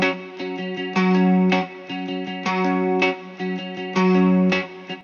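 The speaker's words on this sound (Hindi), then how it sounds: "यहाँ पर एक गिटार का पैटर्न मैंने यूज किया है" Electric Sunburst Deluxe sampled guitar library playing a melodic pattern for a Rajasthani folk song in Bollywood style, with bright, repeated picked chords and notes in a steady rhythm, chorus-tinged, clear and with no talk.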